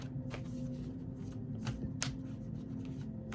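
A deck of oracle cards riffles and slaps as it is shuffled by hand, close and quiet, in a run of soft papery flutters and a few sharper snaps, with no talking.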